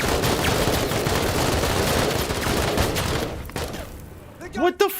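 Enemy gunfire in the sci-fi tactics game Menace, a dense, continuous fusillade of rapid shots filling the first few seconds before thinning into quieter bursts, with a player's voice briefly audible near the end.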